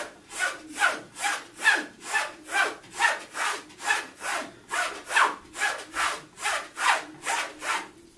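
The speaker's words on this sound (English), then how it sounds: "Then I'll go to my strop right here," A 5/8 carbon steel straight razor is stropped back and forth on a strop in even, rhythmic strokes, about two per second, each a close, soft rasping swish with no talking.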